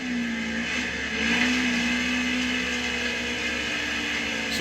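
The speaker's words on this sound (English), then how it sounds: "This thing is really hitting the rev limiter hard." A NASCAR race car engine in the NASCAR Heat 5 video game holds hard against its rev limiter, a steady high-revving drone that barely changes pitch for several seconds, with no voices.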